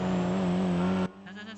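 A car driving in the GTA roleplay game, its engine droning steadily with a loud sustained tone for about a second before cutting off abruptly, leaving a quieter tail of faint hum and noise.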